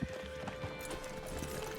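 Horse hooves clip-clopping away at a steady gait in Red Dead Redemption 2, a continuous run of soft thuds with a faint whinny amid outdoor ambience.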